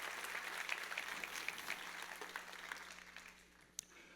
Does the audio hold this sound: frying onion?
no